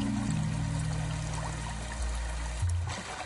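Lake water moving steadily with a continuous, close pouring and trickling wash, loud and unbroken throughout with a slight dip near the end, and no talking.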